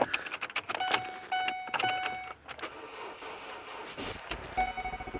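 Ford Focus ignition key turned in a newly replaced ignition switch, giving a few close metallic clicks and key jingles with faint dashboard chimes, no engine start, in a quiet car.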